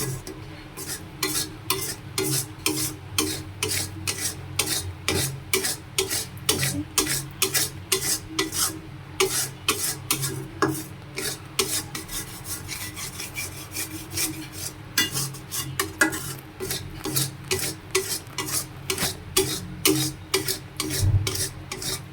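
Peanut brittle gets stirred in a pan, a long run of rapid rhythmic scraping strokes against the metal, close and steady, with a faint sizzle beneath.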